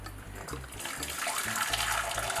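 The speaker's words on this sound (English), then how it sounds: "So here we go with the hot water." Hot water pours from a tap into a basin in a steady, rushing splash that grows fuller and louder, close by, with faint low sounds at the start.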